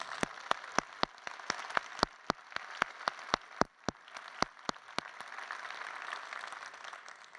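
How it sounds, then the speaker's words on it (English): Applause from a conference audience at a critical care society presidential address, heard as sparse, distinct claps at first that thicken into a faint, steady patter of many hands from a distant crowd. "Let's give them a big round of applause."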